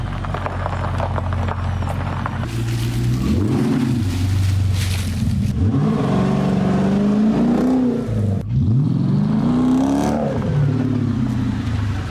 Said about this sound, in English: I think it makes the exhaust a little louder.